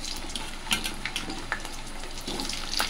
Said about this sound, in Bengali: 5 ফোড়ন দিয়ে এখানে আলুগুলো একে একে ভেজে নেব।